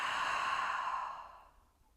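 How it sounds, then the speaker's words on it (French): A deep breath during a guided yin yoga session for the neck and shoulders, a long, steady, close airy exhale through the mouth that gradually fades to near silence, with no talk over it. "Encore une profonde inspire."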